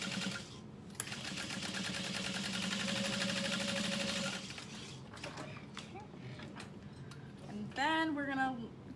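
A sewing machine stitching rapidly to baste a snap in place on a garment panel, a fast close mechanical ticking run for about four seconds that then stops, followed by a voice speaking briefly.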